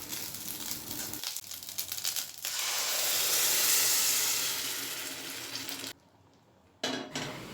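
Boiled urad dal tipped into hot oil spiced with ginger paste and asafoetida, setting off a loud, steady hiss of frying that swells after a short clatter of pan and spoon, then cuts out briefly near the end before one last burst.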